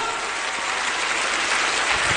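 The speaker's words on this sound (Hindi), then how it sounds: "मैं चाहूंगा एक जोरदार ताली महागुरु शरद वर्मा सर के लिए हो जाए" A packed audience at a business motivational seminar claps hard and continuously, a thick, steady roar of hands filling the hall from start to finish.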